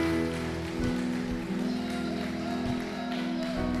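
A church congregation applauding, a steady wash of clapping spread across the room, heard over sustained musical tones for the whole short stretch.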